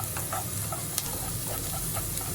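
Onion, garlic and ginger sautéing in a non-stick pan give a loud, continuous sizzle with rhythmic scraping from stirring, close and alone without speech.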